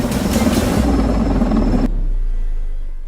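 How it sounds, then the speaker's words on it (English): A helicopter carrying a heavy load over a work site produces a loud, broad rotor roar that cuts off sharply after about two seconds, leaving a fading low rumble. "Helicopter deliveries aren't risk-free."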